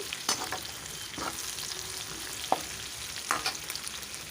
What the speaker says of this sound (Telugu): ఉల్లిపాయలు గోల్డెన్ రంగులాగా వచ్చి బాగా వేగాయి.